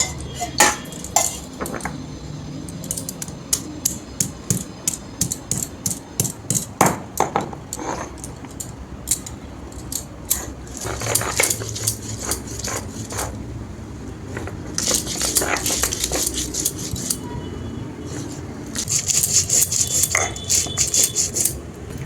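Cumin, green chili and ginger ground on a small, sharp shil-nora grinding stone, heard as a series of close, rhythmic knocking and scraping strokes in bursts, with pauses and faint background sounds between.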